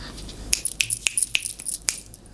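A run of about six crisp finger snaps, close and dry, spaced irregularly over a couple of seconds with no voices.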